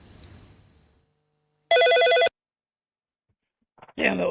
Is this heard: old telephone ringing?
yes